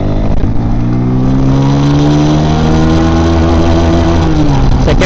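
Motorcycle engine pulling hard in second gear during a top-speed run on a road ride, a loud steady drone rising smoothly in pitch, close and continuous without talk.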